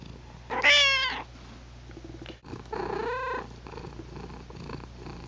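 A cat purrs close by inside a car while riding in the rain, the purring swelling loudly in two clear bursts with softer rumbling between, over a steady low road hum.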